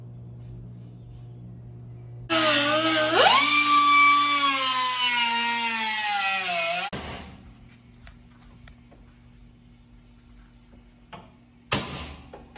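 A power tool whines loudly for about five seconds, cutting two small notches into a steel bracket during a Toyota Hilux build, its pitch sliding up at the start, then cutting out to quiet room tone with a brief knock near the end.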